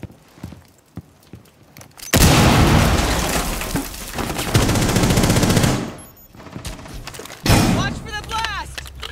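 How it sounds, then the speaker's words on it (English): A sudden heavy breaching-charge blast in Rainbow Six Siege erupts after quieter sounds, followed by a long rumbling roar, then another loud burst near the end. "Watch for the blast!"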